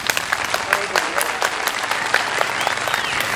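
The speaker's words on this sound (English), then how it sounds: "Please give a round of applause to Nathaniel Parker." Steady, enthusiastic applause from an audience, dense clapping throughout with no pauses.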